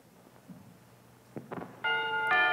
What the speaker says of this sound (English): You want to see the next one where they put in the doorbell?